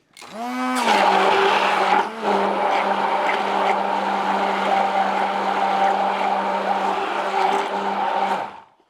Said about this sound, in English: now we are going to blend these